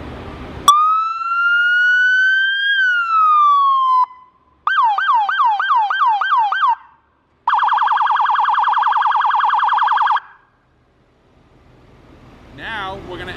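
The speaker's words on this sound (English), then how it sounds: "So right now you're gonna hear just the siren tone out of speaker number one." A Federal Signal Pathfinder siren plays through a single speaker, loud and close, cycling through a rising wail, a rapid yelp and then a fast warbling tone, with short gaps between patterns and near-silence afterward.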